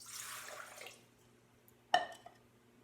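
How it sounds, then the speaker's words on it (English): Water is poured into a stand mixer bowl for cinnamon roll dough: a soft, brief splashing pour at first, then a quieter pause and a sharp single clink or splash, faint and close with no talk. "So I'm going to put in my water"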